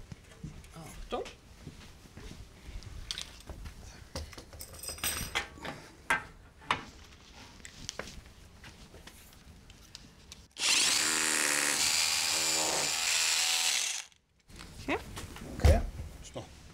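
Power drill boring holes into a door frame set in an aerated concrete wall during a front door installation, one loud sustained burst of about three and a half seconds after quiet handling noises and talk.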